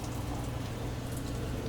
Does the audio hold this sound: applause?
no